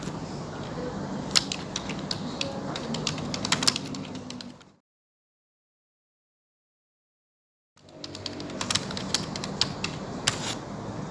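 Computer keyboard typing, a quick run of close, dry key clicks that stops abruptly into silence for about three seconds and then resumes at the same steady pace.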